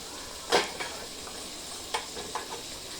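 Chicken fries with masala in a pan, a low sizzle under a few sharp spatula scrapes and clinks.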